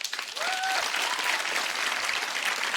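Comedy club audience bursts into applause, a broad sustained wash of clapping from a crowd that swells quickly and holds steady, with a brief whistle near the start.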